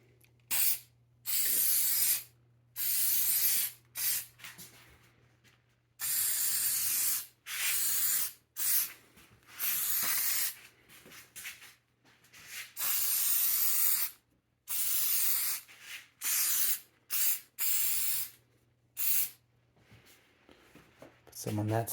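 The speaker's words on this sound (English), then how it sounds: "I got some of this spray adhesive." Repeated short bursts of spray adhesive hissing from an aerosol can onto a car bucket seat, about a dozen quick blasts of varying length, close and fairly loud.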